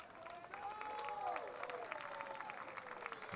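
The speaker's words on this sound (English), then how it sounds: "The fans applauding the effort from Enzo Martinez" Stadium crowd at a Charlotte Independence versus Pittsburgh Riverhounds soccer match applauding a player's effort, a steady wash of distant clapping and crowd noise with whistles and a commentator's voice threaded through.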